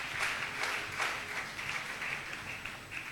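A church congregation applauding the Lord, with a steady, dense wash of many hands clapping together, moderately faint and continuous throughout.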